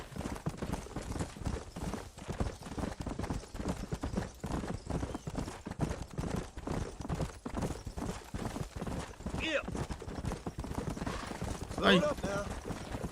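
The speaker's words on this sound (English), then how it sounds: "Let's hold up a minute and find a spot for our horses." Horse hooves clip-clop steadily through Red Dead Redemption gameplay, a dense rhythmic patter that runs the whole stretch under game sound, with a brief sharp burst near the end.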